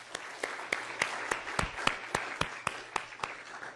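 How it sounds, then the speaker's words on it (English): A small audience at the final round of a competition gives a sparse round of applause, about a dozen distinct, evenly paced claps that sound faint and somewhat distant. "So I'd like to give them a round of applause as well"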